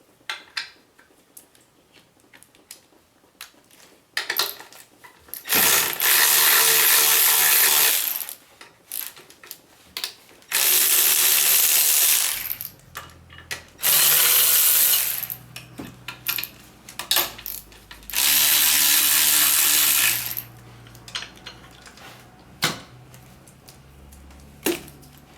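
A ratchet clicks rapidly while someone removes the alternator belt from a Subaru Forester's boxer engine. Loud, close bursts of ratcheting last several seconds each and alternate with quieter handling clatter and metallic clinks.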